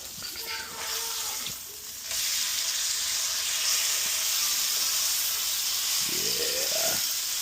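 A wagyu ribeye steak sears in a hot pan, giving a steady close sizzle and hiss with a few brief clanks and stirring noises, and no voices.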